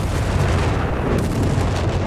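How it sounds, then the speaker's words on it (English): Artillery strikes rumble in the Company of Heroes 3 game, a dense, continuous barrage of heavy booms and blasts rolling together loudly without pause, with no talking. "Artillery strikes are laying down."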